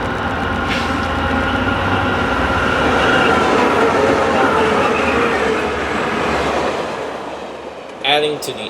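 A Tri-Rail commuter train in South Florida rolls past at speed, a loud, sustained roar of wheels and rail rumble that fades near the end before a short sharp squeal or clank.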